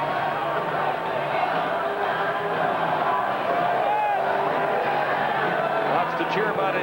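Stadium crowd at a 1993 CFL football game between the Toronto Argonauts and Calgary Stampeders, a steady roar of cheering and babble from many fans, continuous and fairly loud throughout.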